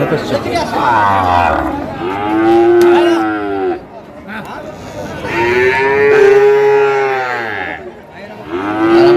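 Sahiwal cattle at a cattle market give loud, close, drawn-out moos, three long calls one after another, with faint crowd chatter and voices underneath.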